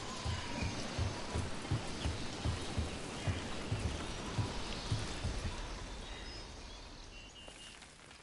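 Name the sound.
rain in the video game Dragon Age: The Veilguard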